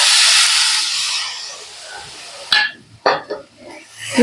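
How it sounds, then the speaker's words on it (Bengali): Water poured into a hot pan of spices for ghugni, a loud steamy hiss that fades over a few seconds, followed by sharp clinks and knocks of a plate against the pan nearby. "এই প্লেটটা যে আছে মশলা রেখেছিলাম, এটা জল দিয়ে ধুয়ে দিয়ে দেবো।"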